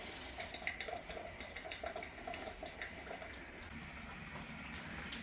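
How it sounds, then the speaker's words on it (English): Tap water runs into a tomato jar as it is washed out in a home kitchen while red pepper soup is made, a faint steady stream with a few splashy gurgles near the start. "let's wash out that tomato jar."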